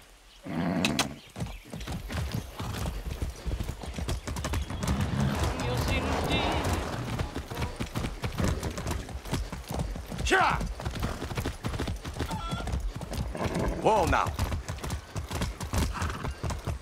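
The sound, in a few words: horse hooves galloping, from a video game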